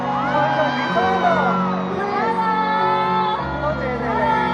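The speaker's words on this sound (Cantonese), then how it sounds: "俾掌聲" A concert audience at a Cantopop show cheers and whoops loudly, a sustained roar of excited voices with shouts rising over the crowd.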